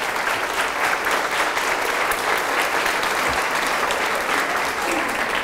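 A church congregation during a Spanish-language homily claps loudly and steadily, a thick wash of applause that fills the room throughout.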